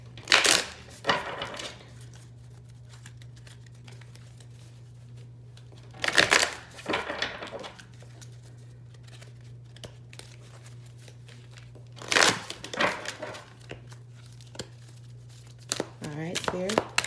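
Moonology oracle cards are shuffled in several short, crisp bursts of riffling and flapping, spaced a few seconds apart. A low steady hum runs underneath.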